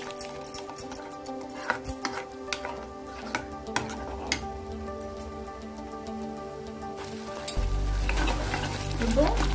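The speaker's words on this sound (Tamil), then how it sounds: "கொஞ்சம் நெய் சேர்த்துட்டு கிண்டிடுவோம்" Carrot halwa is stirred with ghee in a pan, a close bubbling sizzle under repeated spoon scrapes and taps against the metal, then a louder, rougher stretch of frying and scraping near the end.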